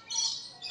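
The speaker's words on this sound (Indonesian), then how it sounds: "Burung-burung kecil tuh, burung gereja itu, masuk dari itulah" Small birds such as sparrows chirping inside an enclosed eco park aviary in Batam, a brief, fairly clear high twitter up close with no talking.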